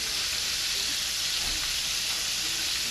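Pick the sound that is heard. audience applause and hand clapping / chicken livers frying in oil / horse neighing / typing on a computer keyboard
chicken livers frying in oil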